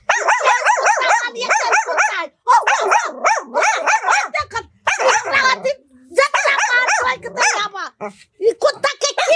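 A dog barks and yips in rapid, excited bursts, with short gaps and a few whimpering whines between volleys, loud and close.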